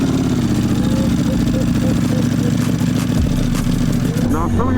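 An SP2 motorcycle engine idles with a low, throbbing rumble, close and steady, while a person talks over it.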